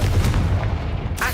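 A blast from a Bombarda or Confringo spell in Hogwarts Legacy, a short booming burst with a crackling tail, followed by a brief sharp hiss.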